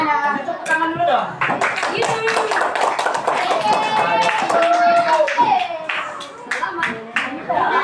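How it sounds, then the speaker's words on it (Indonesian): A fourth-grade primary school class clapping hands together, with crisp, fairly fast claps running through most of the clip under children's voices and a teacher talking and singing. "Tepuk tangan dulu dong."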